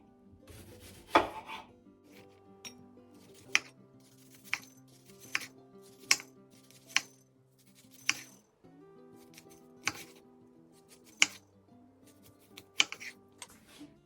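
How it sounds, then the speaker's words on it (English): A knife slices an onion thinly on a cutting board, giving a steady series of crisp, evenly spaced chops that stand out clearly against a quiet room. "Slice your onion thinly."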